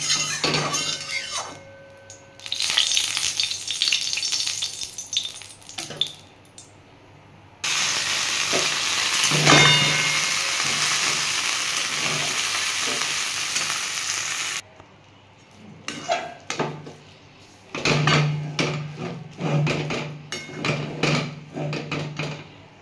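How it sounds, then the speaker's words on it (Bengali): A pumpkin and red lentil mix fries in a wok, loud sizzling in long stretches broken by pauses and bursts of stirring and scraping, no one speaking. "কুমড়ো আর মুসুর ডালের যেটা মিক্স করলাম, এটা আমি এবার একটু কড়ায় ভেজে নেবো যাতে কাঁচা গন্ধটা না থাকে।"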